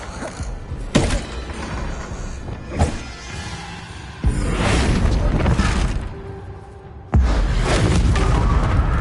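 Descendo spell impacts in Hogwarts Legacy land as sharp booming thumps, several distinct hits separated by gaps, followed by heavy rumbling crashes and debris noise, loud and close.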